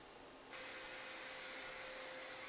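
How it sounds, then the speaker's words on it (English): A vacuum cleaner hoovering inside a Power Mac G5 case during a PC conversion switches on abruptly and then holds a steady, loud, broadband whoosh with a faint high whine, alone with no talk. "Okay, time for a good old hoover."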